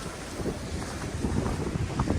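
Steady roaring wind buffets the microphone at the Queen's Head rock formation in cold, drizzly weather, a continuous low rumble with gusty swells and no voices.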